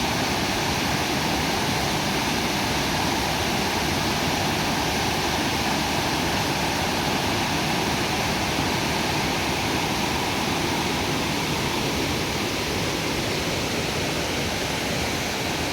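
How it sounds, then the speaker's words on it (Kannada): Kabbinale hidden waterfall in the Western Ghats, a small but powerful falls heard as a loud, dense, unbroken roar of rushing water, steady throughout with no voices. "ಇದು ನೋಡಲಿಕ್ಕೆ ಇಷ್ಟು ಚಿಕ್ಕದಿದ್ದರೂ ಭಾರಿ ಅಪಾಯಕಾರಿಯಾದಂಥ ಒಂದು ಫಾಲ್ಸ್"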